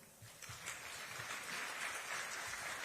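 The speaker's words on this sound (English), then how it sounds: "A lot of applause for the Principal Secretary." Applause from a conference audience at an international gathering on safe schools, a dense, steady clapping from many hands that swells slightly and holds, heard from across a large hall.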